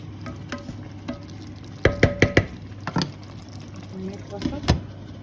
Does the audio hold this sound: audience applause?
no